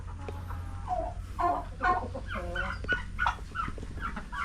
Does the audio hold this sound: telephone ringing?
no